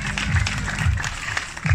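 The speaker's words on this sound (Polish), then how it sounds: "Wielkie brawa dla niego" Spectators at a 2020 final clap for a competitor who has just finished, a close, continuous patter of applause with low shouting voices mixed in.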